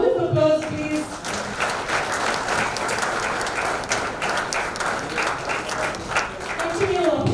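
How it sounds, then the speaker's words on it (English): Audience applause at a members' day event, a sustained crowd clapping for several seconds with voices calling out over it near the start and end. "Round of applause, please."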